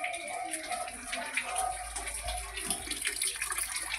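Water splashes and runs steadily across a verandah floor as it is washed, a continuous close wash of spattering and trickling with faint voices in the background.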